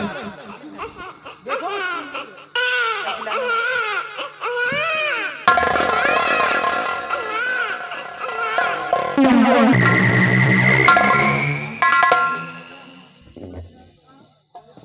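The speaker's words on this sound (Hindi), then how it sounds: "कहीं बच्चा के रोने की आवाज आ रही है।" An infant cries and wails in a jungle during a staged folk drama, the cries rising and breaking over about fifteen seconds, loud and close, with laughter-like bursts and theatrical voices mixed in.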